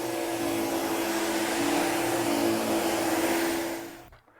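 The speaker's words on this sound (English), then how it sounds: "We use these canister type vacuum cleaners" A canister vacuum cleaner runs steadily with a loud droning motor whine and airy rush, holding constant for several seconds before winding down and switching off at the end.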